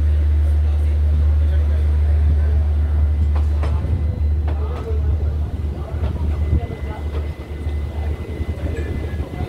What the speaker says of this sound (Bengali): আজ দিয়ে চলে যাচ্ছে শিয়ালদাগামী আরও একটি লোকাল ট্রেন